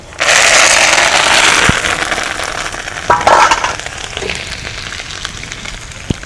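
Cumin seeds and curry leaves hit hot tempering oil with a sudden loud sizzle that flares and crackles, then fades as the spluttering settles, close by.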